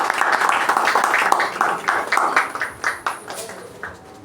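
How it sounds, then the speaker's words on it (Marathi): A crowd at a 50th wedding anniversary celebration gives hearty applause, steady dense clapping that runs loud and then gradually thins and fades, with some voices mixed in. "जरा जोरदार टाळ्या निशाळजी बोरगावकर यांना देतो"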